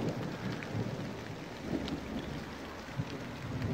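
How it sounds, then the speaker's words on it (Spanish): Heavy rain pours steadily outdoors in a broad, dense wash, with a low rumble of thunder rolling beneath it and a brief sharper crack near the end. "está lloviendo demasiado"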